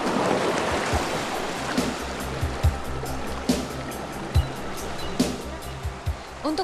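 Rushing grade 3 to 4 river rapids on the Serayu River, heard from a rafting boat as a steady broadband churn of water, with repeated low thumps and knocks recurring throughout.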